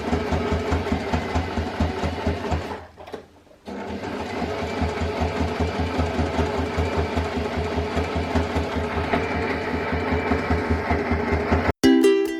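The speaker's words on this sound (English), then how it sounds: "you're just going to put the fabric down onto your sewing machine" A sewing machine stitching fabric for a drawstring bag made from duvet covers, running in a steady rapid mechanical rhythm close by, with a short pause partway and a brief stop near the end.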